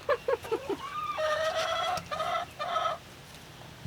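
Backyard chickens clucking and calling near a coop, a quick run of short clucks followed by a longer drawn-out squawk and a few more calls, close by and fairly loud, with no talk.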